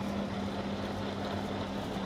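A tractor engine in Farming Simulator 22 drones steadily at close range, a constant low hum with no break across the short stretch.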